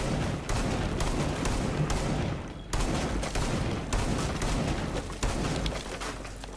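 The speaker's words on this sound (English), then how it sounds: "since we got this b shotgun we're gonna destroy it completely" Shotgun blasting through a wall in Rainbow Six Siege: a rapid series of sharp, loud bursts with crackling debris, the shots landing roughly a second apart in an uneven rhythm.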